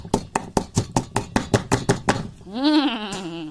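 Santol salad with fermented fish is pounded in a mortar, about a dozen steady, close, thudding strikes in even rhythm, followed by a brief stretch of sliding, wavering vocal-like sound.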